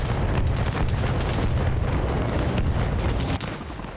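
Mortar fire in the Arma Reforger video game, loud and close, a dense rumbling barrage of overlapping booms and blasts that keeps rolling for several seconds before easing slightly at the end, no speech.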